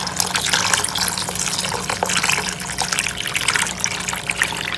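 Water runs steadily from a kitchen tap while homemade butter is being washed underneath it, a continuous close splashing hiss with slight trickling variation and no voices.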